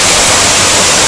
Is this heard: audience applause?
no